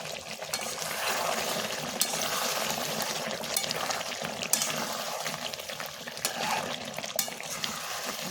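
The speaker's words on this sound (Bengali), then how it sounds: "মাংস এখন কষানো চলছে" Meat, not yet joined by potatoes, being sautéed kosha-style in a pan: a steady broad sizzle and hiss with occasional stirring clicks and scrapes, close and moderately loud.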